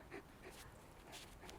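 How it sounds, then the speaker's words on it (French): Naxo, a dog, pants quietly on a mat, a faint, rapid, rhythmic breathing close by against a steady background hiss, with no talk. "même si un chien passe à côté de moi"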